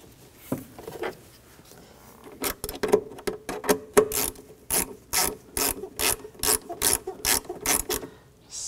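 A ratchet wrench clicks steadily as a screw is tightened on a transmission mount bracket of a 2013-2019 Ford Escape 2.0L L4, with close, loud, rhythmic bursts of ratcheting.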